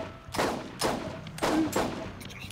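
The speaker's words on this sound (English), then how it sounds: "just blindly firing my gun" Three heavy bursts of rapid gunfire from a Borderlands shooter game ring out close and loud, separated by short pauses.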